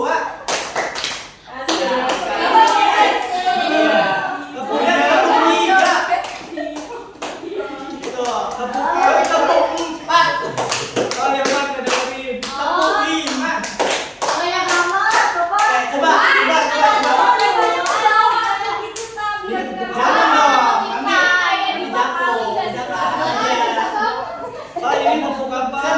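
Hands clap in counted bursts during a classroom clap game at a microteaching practice, sharp taps mixed under a teacher's continuous instructing voice.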